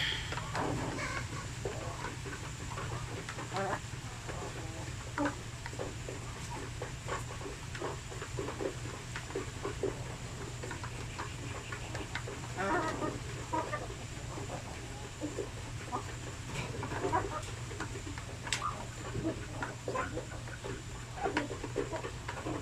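Native chickens on a Philippine farm cluck softly and intermittently at moderate distance over a steady low background hum, with no talking.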